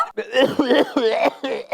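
A man coughs in a Gujarati stage comedy, a run of harsh, voiced cough bursts close to the listener, each rough and throaty, filling the short moment with little pause.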